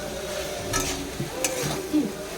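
Fried soybeans go into a hot pan with capsicum, green chilli and sugar for chilli soybean, giving a brief soft sizzle under a few scraping stirs and utensil knocks, close by.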